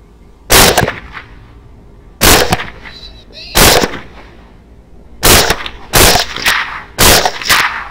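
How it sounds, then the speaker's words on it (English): Six loud, sharp rifle shots crack out at a hog during a night hunt, spaced unevenly over several seconds with quiet gaps between each report. "That hog is hit once with a glancing shot"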